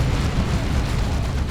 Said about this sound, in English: we'll see how this Tzeentchian missile launcher does